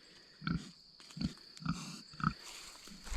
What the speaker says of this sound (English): Look, here's the old pig, one of them.